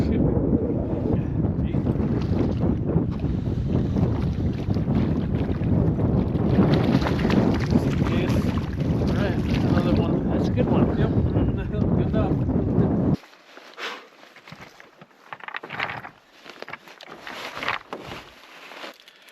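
Chilly November wind on a Boundary Waters lake roars steadily into the microphone, then drops abruptly to gusty, intermittent buffeting.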